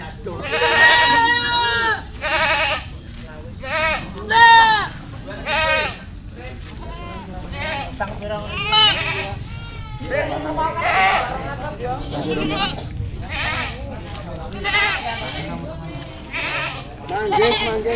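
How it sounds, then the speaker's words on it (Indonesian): Several goats bleat repeatedly nearby at a livestock market in Kotabaru, loud wavering cries overlapping one another in an outdoor setting. "Kambing lagi, Pak,"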